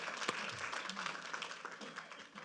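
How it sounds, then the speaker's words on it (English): An audience at a city council meeting applauds a departing police lieutenant, a brief, soft burst of clapping that sounds somewhat distant and fades slightly toward the end. "So one more round of applause for Lieutenant Hall"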